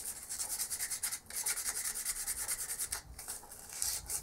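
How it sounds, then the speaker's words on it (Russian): Finest-grade sandpaper rubs a fishing spoon lure to clean it, giving a close, continuous rhythmic scratching of quick back-and-forth strokes with no voices. "Наждачная бумага берется для шлифовки, нулевка, самая мелкая."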